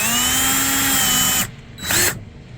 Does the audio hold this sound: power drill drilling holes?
yes